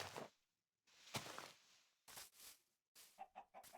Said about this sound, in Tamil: கோழி இருக்கு.